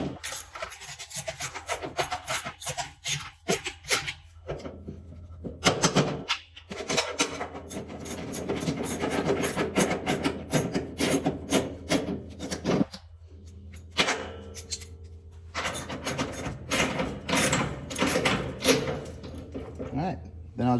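Bolts on a utility trailer being tightened down in a shop, with repeated rasping, scraping turns of a wrench in bursts separated by short pauses, while someone talks over the work.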